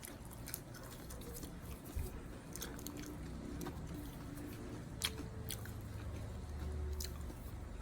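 Someone chews a hot fried lumpia filled with longganisa sausage, potato, carrots and celery, with soft, close, wet crunches and squishes at irregular intervals over faint background noise.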